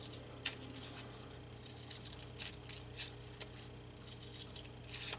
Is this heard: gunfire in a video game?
no